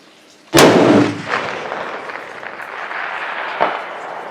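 A .338 Lapua Magnum rifle fires at a 14-inch steel target 865 meters away: a single sharp, loud shot rolls off into a long fading echo, then a faint distant tick follows about three seconds later.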